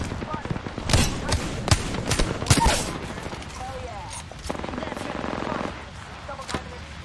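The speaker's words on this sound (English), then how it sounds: "I'm getting shot at." Rapid bursts of automatic gunfire in a shooter video game, sharp clustered shots in the first few seconds followed by a sustained whirring tone and a final shot, loud and close, with a player's voice talking over it.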